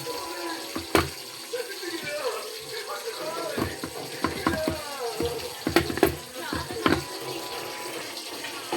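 Water splashes and runs into a cooking pot with clanks and knocks of utensils, moderately close, continuing steadily throughout.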